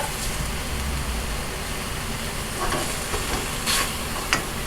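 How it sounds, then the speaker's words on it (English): Apples for an apple pie being stirred in a pan, a steady bed of soft sizzle and hiss with a few scraping spoon strokes near the end, close and moderately loud, with no talking. "Let's stir that up."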